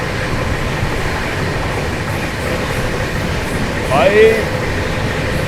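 Steady, close rumble and rattle of the 12275 Prayagraj–New Delhi Humsafar Express running side by side with the Vikramshila Express, heard from on board. Someone speaks briefly over the continuous train noise.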